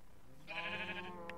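A sheep bleats once in the video game Minecraft, a single drawn-out, wavering bleat, clear and close, followed by a faint short blip near the end.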